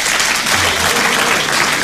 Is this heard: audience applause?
yes